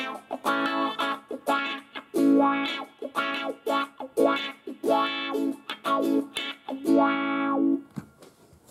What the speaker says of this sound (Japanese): ブラックワウ、これですね。